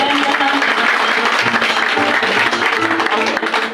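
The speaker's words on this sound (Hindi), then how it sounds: "मैं चाहूंगा एक जोरदार ताली उनके लिए।" A lively crowd at a Haldia branch gathering claps loudly and steadily for the branch manager, a dense, sustained burst of applause with no talk over it.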